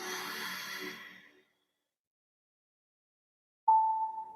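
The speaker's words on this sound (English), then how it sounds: "Breathing out." A gentle exhale through the nose during a guided breathwork session, a soft, close airy whoosh of about a second and a half that fades into silence before a voice speaks.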